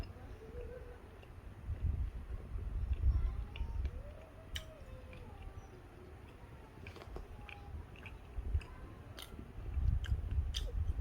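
Someone chews homemade bread close to the microphone, with soft, irregular bites and mouth sounds coming in uneven bursts over a quiet background.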